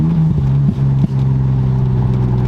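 An LS V8 swapped into a BMW E36 holds a loud, steady rumbling drone with two quick blips in revs, close to the car, no talk over it.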